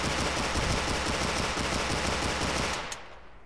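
Rapid sustained gunfire from a handgun aimed down sights in a video game, a dense loud burst of rapid shots that cuts off near the end.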